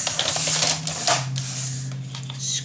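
Paper for a spring-themed craft project is trimmed on a cutter, producing a close, dry rasping slide with crisp clicks and rustles and a low mechanical hum behind it.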